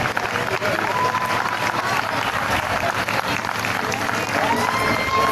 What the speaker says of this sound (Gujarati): તાળીઓના ગડગડાટથી સૌને વધાવશો